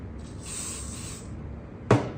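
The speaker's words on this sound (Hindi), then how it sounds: "स्प्रे मारो" Hair spray sprayed onto a braid in a hair-styling session: a soft, steady hiss that runs for about a second, followed by a brief sharp click or tap near the end.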